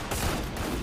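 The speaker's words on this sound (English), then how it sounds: "That's the barrage." A dense, continuous barrage of gunfire in the Free Fire battle-royale game, with rapid overlapping shots forming a loud wall of noise through the whole short burst.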